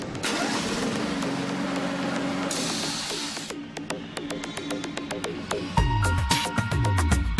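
A lawn mower engine on a factory test stand runs steadily, then is cut and restarted with a kill switch to time the blade stopping, giving a busy mechanical hum broken by sharp clicks and a renewed surge near the end.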